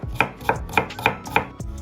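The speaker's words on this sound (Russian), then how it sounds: "Лук нарезаю перьями." A knife slices an onion into strips on a cutting board, about six crisp, evenly spaced cuts in quick rhythm, close up with no voices.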